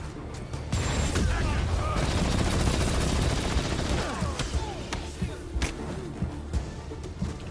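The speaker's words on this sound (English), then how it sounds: "a rocket launcher right to the face" Rapid gunfire and booming blasts from rocket launcher fire in the Marvel's Spider-Man video game, a dense barrage for the first few seconds that thins into scattered sharp shots and thuds.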